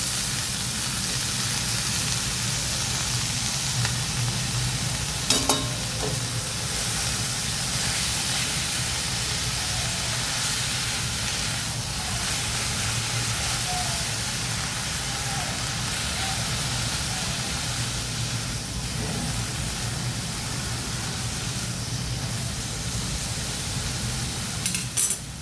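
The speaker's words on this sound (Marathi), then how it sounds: "पालक तेलावर छान परतून घेऊ" Finely chopped spinach sautéing in hot oil for a palak besan dish, giving a continuous soft sizzle and hiss that holds steady with occasional faint stirring clicks.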